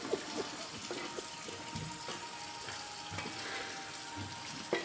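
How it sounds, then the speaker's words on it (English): Fat and liquid from cooked ground meat draining out of a pan, a steady wet sizzling and trickling hiss with faint clinks, moderately close, with no talking. "We are going to drain our meat"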